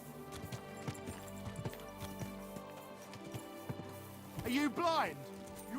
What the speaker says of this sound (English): é horrível andar de cavalo nesse jogo aqui